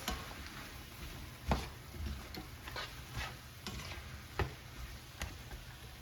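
Garlic stirred into okra and tomatoes in a pan, with soft scraping strokes and a few sharper utensil knocks spaced across the quiet cooking background.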